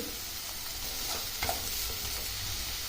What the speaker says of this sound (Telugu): ఇప్పుడు వీటిలో ఉన్న పచ్చివాసన పోయే వరకు కలుపుకోవాలి.